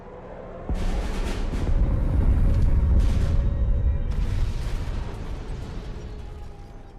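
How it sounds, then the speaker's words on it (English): Strategic bombing explosion in the card game KARDS, a deep rumbling blast that swells after a sharp onset and rolls on for several seconds with crackling bursts, gradually fading. "here we're gonna see the strat bombing"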